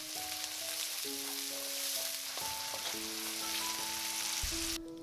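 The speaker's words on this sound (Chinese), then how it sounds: "油里面放入洋葱" Onion frying in hot oil for a vegetable steamed bun filling, a loud close sizzle running steadily without pause under faint background tones, no talk.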